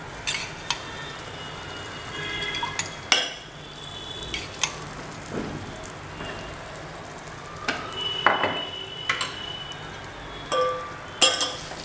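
Instant sheer khurma mix sizzles quietly in ghee in a pan while a spoon stirs it, with scattered scraping and clinking strokes over a soft, steady frying hiss.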